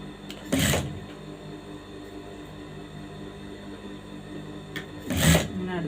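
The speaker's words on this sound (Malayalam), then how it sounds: "ഓരോ സ്റ്റിച്ച് പതുക്കെ ഇട്ട് കൊടുത്തുകൊണ്ടിരിക്കുക." A sewing machine stitching two fabric pieces for a frock kurti runs in two short, slow bursts several seconds apart, each a close mechanical whir over a faint background hum.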